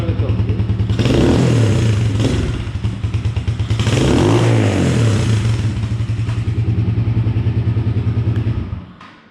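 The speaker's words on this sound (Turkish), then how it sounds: "Egzoz değişti sesi müthiş" A loud modified cafe racer motorcycle with an aftermarket exhaust rumbles close by with a throaty exhaust, revving up twice in strong surges before settling back to a steady idle.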